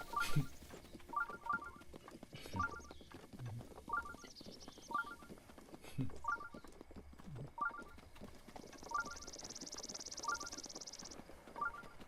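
Horse hooves clip-clop in a steady, evenly spaced rhythm in The Legend of Zelda: Breath of the Wild on Nintendo Switch 2, faint and quiet under a soft game background with a brief high tone near the end.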